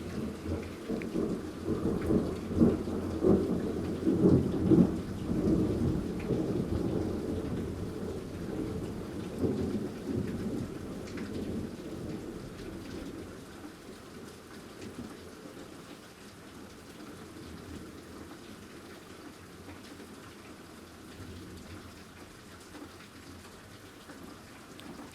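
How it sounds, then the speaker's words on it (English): Heavy rain pours steadily through a violent severe thunderstorm, with rolling thunder booming loudest early on before the downpour eases to a softer, continuous hiss in the later part. "Sounds like the rain's slowing down at least."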